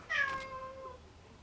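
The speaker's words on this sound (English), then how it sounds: "Oh, excuse me, that was my cat Bean" A single drawn-out cat meow, close and fairly clear, falling in pitch and fading over about a second in a quiet room.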